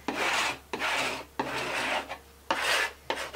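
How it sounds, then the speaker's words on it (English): Plastic scraper rasping paint off a nonstick craft mat in repeated short strokes, close and clear with brief pauses between passes. "you just mist it with some water wherever you've got your paint, and then you just scrape with a little handy scraper"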